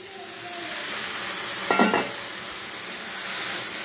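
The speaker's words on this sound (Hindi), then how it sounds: "अब इसमें डाल देते हैं ये बॉईल किया हुआ ग्रीन मूंग।" Boiled green moong dropped into frying masala in a pan, a soft continuous sizzle with one brief scraping splash as it is stirred in, close by.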